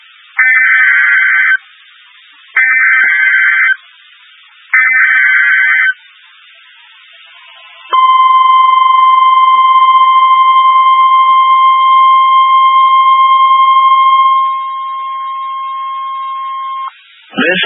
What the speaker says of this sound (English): the alert tones which were just broadcast will automatically activate special receivers to alert you of impending hazards